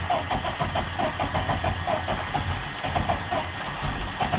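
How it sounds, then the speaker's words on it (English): A 4.3L V6 engine is cranked and catches, running with a rough, pulsing mid-pitched idle that surges near the end, close and loud. "I have to crank it to really get started."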